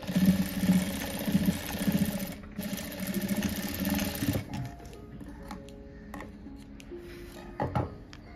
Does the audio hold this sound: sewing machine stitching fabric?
yes